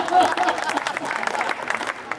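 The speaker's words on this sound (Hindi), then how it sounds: "आप खुद को ताली बजाने से रोक के दिखा सको तो रोक के दिखाइए" An audience at a poetry recital held by a community group claps in a dense crowd applause, close and fairly loud, with a voice speaking over it.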